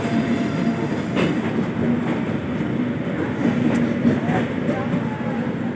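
The Tejas premium passenger train runs along the rails with a loud, steady rumble and rhythmic wheel clatter throughout, close by.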